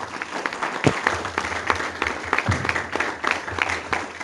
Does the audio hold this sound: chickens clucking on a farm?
no